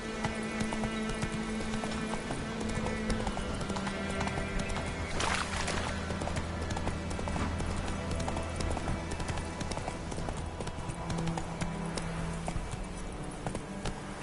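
Horse hooves clip-clop steadily at a gallop in The Witcher 3 video game, mixed with game ambience and a brief whinny, with no talk over it.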